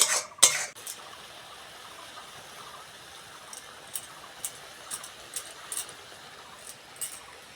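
Poppy seed paste going into a pan of cooked-down masala: a sharp metal clatter at the start, then quiet soft sizzling with a series of light utensil taps against the pan; no talking.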